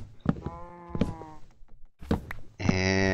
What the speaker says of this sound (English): Cow, you can't be walking like that in a place that's dark.